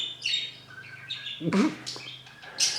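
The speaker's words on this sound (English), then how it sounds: "Crazy bird." A bird squawks and chirps in a few sharp bursts indoors, close and fairly loud, with a steady low hum behind it.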